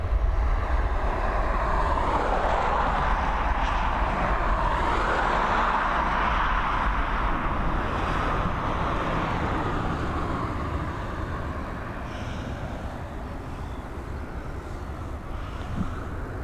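A Ryanair Boeing airliner bound for Reus taxis or departs at Dublin Airport. Its jet engines give a steady, broad, moderately distant roar that eases slightly toward the end.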